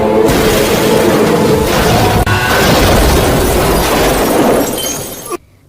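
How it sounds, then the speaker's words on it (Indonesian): A car crash in an animated story erupts in a loud, sustained burst of smashing metal and shattering glass that roars for about five seconds before cutting off abruptly. "Dengungan Nani membuat Sudep tak fokus menyetir dan mengalami kecelakaan"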